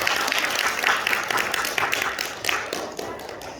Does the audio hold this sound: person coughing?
no